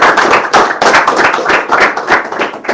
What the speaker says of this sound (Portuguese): Você pode dar um aplauso ao Senhor Jesus?